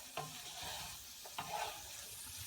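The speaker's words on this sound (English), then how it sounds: "as this looks like it's frying up pretty well" Green onions and other quiche ingredients fry in a pan with a soft, steady sizzle, broken by two brief stirring scrapes, quiet and close with no talking.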